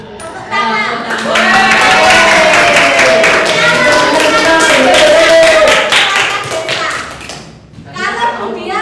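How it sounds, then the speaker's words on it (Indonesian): A classroom of eighth-grade students clapping together in a burst of dense, close applause with children's voices and chatter underneath, starting abruptly and tapering off into scattered claps. "Tepuk tangan."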